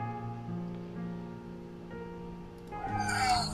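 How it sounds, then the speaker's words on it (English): A cat meows in the horror adventure game The Last Door, a drawn-out rising cry near the end over a steady, low ambient game drone. "That goddamn cat, he meows every night and it's for me."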